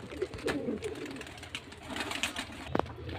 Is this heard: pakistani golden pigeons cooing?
yes